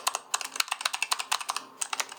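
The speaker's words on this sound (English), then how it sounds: "It feels so strange, so clicky. So clicky keyboard, really." Rapid clicky keystrokes on a Razer Huntsman Elite gaming keyboard, close and crisp, in an uneven typing rhythm with no talking.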